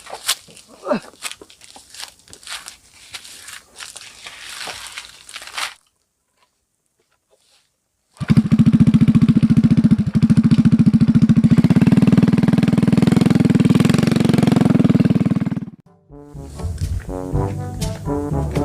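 A motorcycle engine roars loud and steady for several seconds after a brief silence, then cuts off. Talk and movement come before it.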